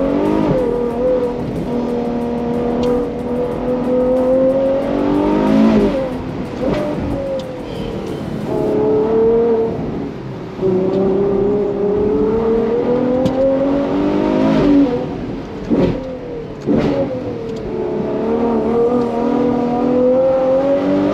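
A Ferrari 812 GTS V12 convertible accelerating hard, the engine note climbing through the revs in repeated surging pulls with brief dips at shifts, loud and close throughout with no talking.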